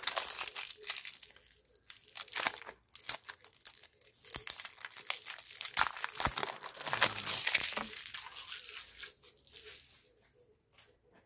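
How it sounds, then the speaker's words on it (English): A sealed pack of Old Timer playing cards being unwrapped, with close, crisp crinkling and tearing of the wrapper in irregular bursts, followed by quieter rustling as the pack opens. "whenever I get a pack of cards with anything, I immediately open them to see what's on the inside of the cards"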